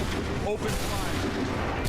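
Soldiers opening fire in Assassin's Creed 3, a dense rolling volley of musket-like shots and booms blended into a loud continuous roar, with a voice speaking over it.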